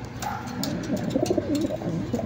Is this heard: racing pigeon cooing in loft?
yes